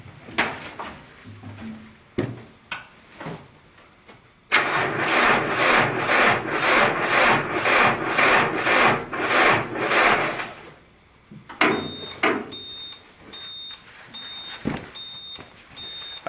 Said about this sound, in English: let me just give you a quick listen on how hard this is going to crank